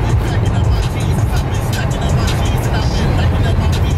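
A car drives along the road, giving a steady, loud low rumble of engine and tyre noise from inside the cabin, unbroken for the whole stretch.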